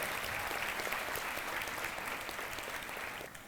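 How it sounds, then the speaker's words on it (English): Audience applause for singers at a school Teachers' Day celebration: a steady, even roar of many hands clapping, moderately distant, tapering slightly at the very end. "Let us all again give a huge round of applause to our dear Himanshu sir, Jaimin sir and the team of budding singers."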